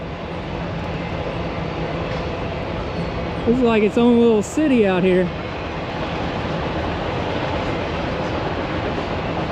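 A steady broadband rumble and rush from a train passing in the background of an outdoor hot rod and rat rod car show campground runs throughout, with someone speaking briefly in the middle.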